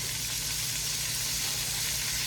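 Double-battered chicken fries in hot oil, giving a steady, even sizzle and hiss that carries on without a break.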